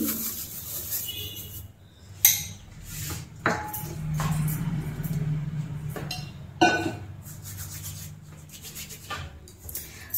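Sugar being stirred into semolina barfi in a pan over low flame: scraping and rubbing of a spoon against the pan with occasional sharp metallic clinks, near and moderately quiet.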